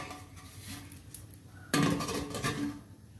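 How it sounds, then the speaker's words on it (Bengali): A spoon scrapes and clinks against a pot of jute leaf curry, then a lid clatters down onto it with a sudden louder metallic clank. Quiet kitchen sounds continue as the lid settles. "ভালো করে নেড়ে ঢাকা দিয়ে দেব"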